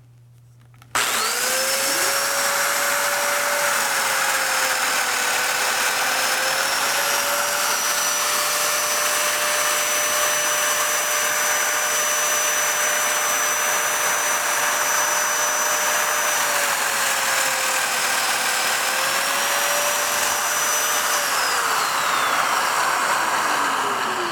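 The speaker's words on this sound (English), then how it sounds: "I'll be cutting a mortise in exactly the same location" A domino joiner cuts a mortise for a garden gate, starting abruptly into a loud, steady motorised whine with a dust-extraction hiss that holds level for about twenty seconds before the pitch dips as it winds down.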